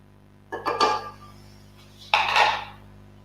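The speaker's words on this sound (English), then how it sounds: "scrape the excess off the spatula" A spatula scraped against the rim of a stand mixer bowl to clear off excess cookie batter, two short, close metallic scrapes separated by a brief pause.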